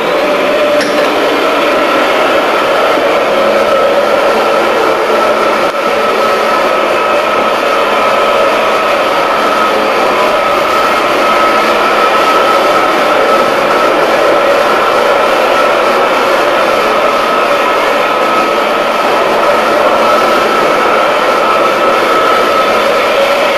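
An auto floor scrubber runs with its squeegee lowered during floor scrubbing, making a loud, constant motor roar and whooshing suction drone that holds steady and close the whole time, without speech.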